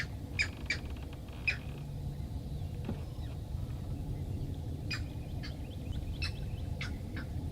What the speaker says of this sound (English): Just birds everywhere.